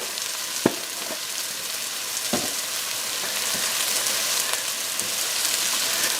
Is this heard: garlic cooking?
yes